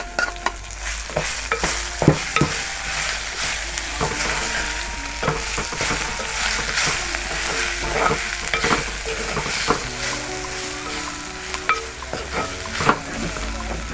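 Stirring sugar sambola in a pan with heated onions, a steady sizzle under repeated scraping and clinking stirs throughout, close and fairly loud, with no voices.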